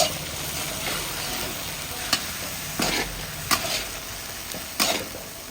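Goat meat stirred and braised in spices in a pan, a steady close sizzle broken by several sharp scraping strokes of a spoon against the pan.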